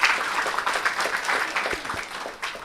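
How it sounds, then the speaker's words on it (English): Audience at an African Liberation Day commemoration event clapping for a speaker, a brief round of applause with some sharper individual claps near the end. "Give him a round of applause again."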